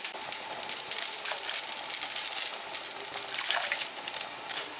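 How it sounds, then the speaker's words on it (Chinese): Blanched pork ribs are rinsed under running water, a steady hissing rush of water with faint splashes, close and even throughout. "打完浮沫再洗一下"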